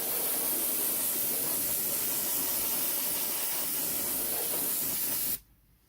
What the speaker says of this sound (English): that's had its light coat of medium grey